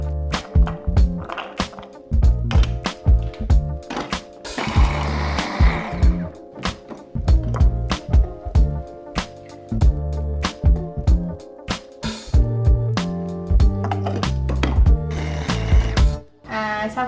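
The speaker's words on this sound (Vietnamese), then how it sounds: "bây giờ mình sẽ đi xay hết cái này và xay thịt" A meat grinder works through meat and vegetables for Vietnamese steamed bun filling, producing a loud, choppy churning with rapid knocking bursts and uneven rhythmic pulses that run steadily throughout.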